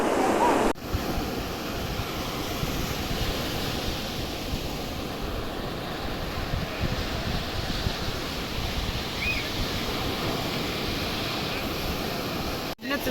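Continuous roar of sea waves breaking on Aglou beach in Morocco, with wind buffeting the microphone, loud and steady for the whole stretch with no talk.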